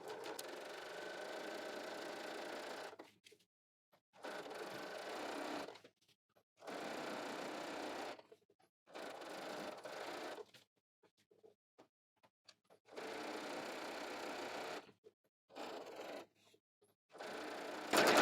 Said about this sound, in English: I'm going to stitch about approximately 1/8 of an inch from the edge.